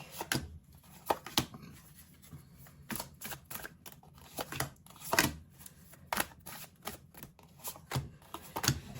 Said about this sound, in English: Shuffling those cards, I noticed myself like pulling from the middle of the deck and the top of the deck